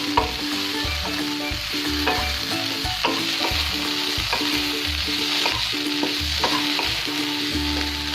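Guar beans fry in a pan with mustard and poppy seed paste, a continuous close sizzle and crackle under occasional stirring clinks, steady and loud with no one speaking.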